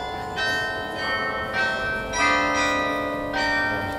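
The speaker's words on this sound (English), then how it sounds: "The bells are ting-a-ling-a-ling." Church bells ring at five o'clock in Leiden, the Netherlands, a steady peal of several overlapping bell strikes repeating about every second, fairly loud and resonant with a long ringing decay, with no voices.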